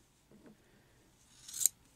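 Scissors snipping through yarn, a single soft crisp cut near the end after a faint rustle, close and quiet with no talking.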